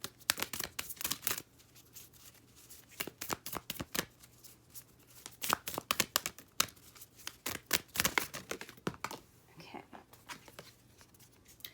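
Oracle cards are shuffled close up in quick runs of crisp riffling and slapping, in irregular bursts with short pauses, fairly quiet overall, and no speech.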